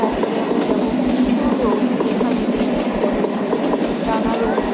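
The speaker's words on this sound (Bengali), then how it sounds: "ট্রেনটা চলে গেল তারপরে আবার একটা ট্রেন আসলো" A train rumbles past close by, with a rhythmic clickety-clack of wheels over rail joints and a low steady roar throughout.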